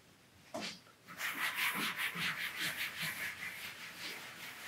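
A cotton wick rubs leather milk across a leather surface in steady, close strokes, a soft repeated swishing friction with no talking.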